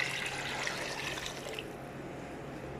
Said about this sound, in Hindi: अभी इसमें मैं डालूँगी, जितने मैंने चावल लिए हैं उससे दुगना पानी डालेंगे।